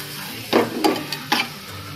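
Garlic fries in butter in a pan, a soft steady sizzle broken by three brief stirring scrapes, close and without voices.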